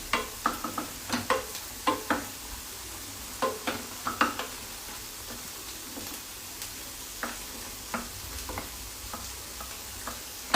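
Spices, including red chili, are stirred and mixed in a frying pan over a soft sizzle, with irregular spatula scrapes and taps that come in quick clusters and then thin out.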